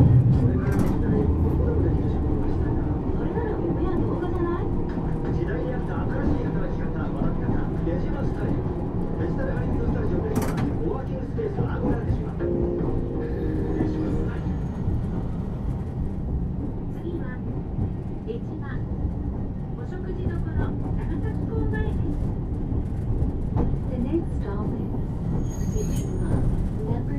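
Nagasaki Electric Tramway Series 202 tram, car 210 on Route 1, running the full line: a steady, loud low-end rumble of motors and wheels throughout, with brief rattles and a faint squeal near the middle.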